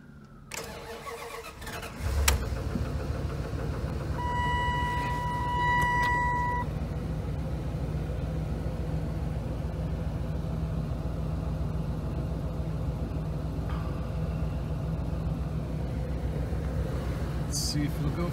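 A 2001 Dodge Ram B3500 CNG maxi van engine cranks on a jump start, then catches and settles into a steady, loud idle with a low rumble that carries on unbroken to the end; a brief beeping tone sounds early on.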